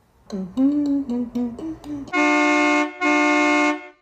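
A toy globe plays a synthesized horn for Noor Jehan, a decorated diesel truck: a string of short musical toots, then two long, loud, steady blasts of a bright electronic horn.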